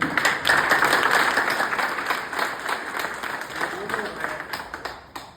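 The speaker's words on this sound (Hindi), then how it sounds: "सबसे पहले एक बार जोरदार ताली हम चाहते हैं लोगों" Audience at a memorial-day gathering for Dr. Sonelal Patel breaks into loud, dense applause that starts strong and gradually thins out, with a voice speaking over the clapping.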